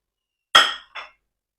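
A metal lid clinks onto a cooking pot, a sharp clatter followed by a softer second settle, then quiet.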